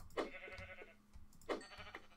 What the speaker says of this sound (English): Why do I always find like rare sheep?